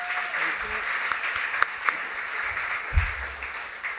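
An audience at a tourism briefing gives steady applause for a speaker being introduced, with a few louder claps standing out. Faint voices come through under the clapping.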